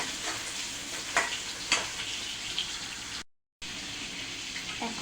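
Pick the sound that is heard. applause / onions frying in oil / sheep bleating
onions frying in oil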